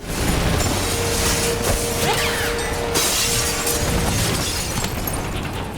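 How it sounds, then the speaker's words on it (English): Loud, continuous crashing of glass panes shattering amid heavy rumbling noise on a film set, dense and chaotic throughout. "all the glass broke in the same timing as a helicopter strafing across"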